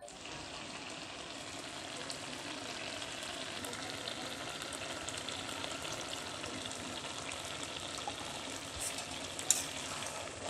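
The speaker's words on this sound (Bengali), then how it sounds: "ঘি দিয়ে আবারও ভালো করে মিশিয়ে নিচ্ছি" A pumpkin dish with ghee, nearly dried of its liquid, is stirred in a pan, giving a soft continuous sizzle with faint scraping of the spoon, fairly quiet and steady, without talk.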